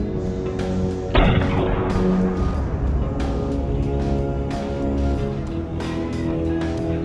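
A single sharp gunshot cracks out over a steady music score in a film scene about bandits, with one man shooting another in the leg. After the shot, only the music continues.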